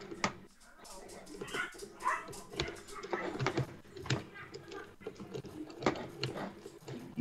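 Dogs bark and whimper in the video game Insurgency, a string of fairly loud yelps with gunfire-like thumps in between, heard under a player's constant talking.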